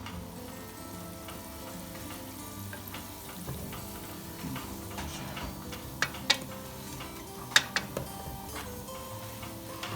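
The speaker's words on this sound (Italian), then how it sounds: "una volta rosolate appena scottate le erbe" Fresh herbs sizzle as they brown in a clay pot over embers, with a soft continuous frying hiss broken by scattered ticks and a few sharper clicks of stirring, no talking.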